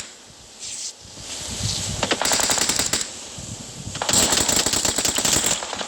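Automatic gunfire in the PUBG Mobile video game, with two long bursts of rapid rattling shots at close range, separated by quieter gaps with faint wind-like background.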